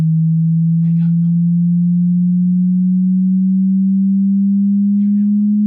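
A steady pure test tone, a continuous hum that creeps slightly upward in pitch, with a couple of faint background noises.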